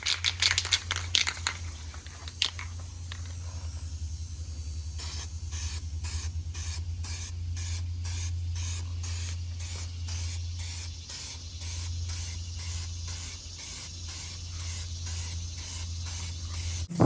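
Primer sprays onto truck mirrors from an aerosol can in a long series of short, even bursts, each a close hissing puff over a low background hum, following a few rustling sounds at the start.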